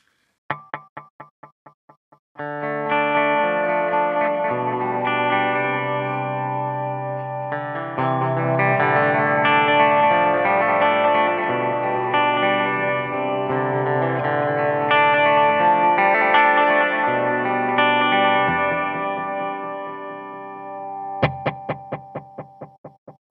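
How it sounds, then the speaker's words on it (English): An EarthQuaker Devices tape delay pedal feeds back into a dense, sustained self-oscillating tone that swells and holds, framed by echoing plucked notes at the start and end. "the tape delay, they do go into self oscillation and they'll build up"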